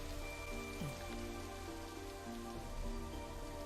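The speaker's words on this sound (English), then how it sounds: "I don't dislike the sound of rain, but it's depressing when it never ends." Steady video-game rain hisses in a faint, continuous wash with a soft, sustained tone humming underneath, no voices present.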